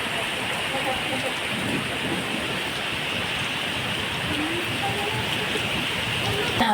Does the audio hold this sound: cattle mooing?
no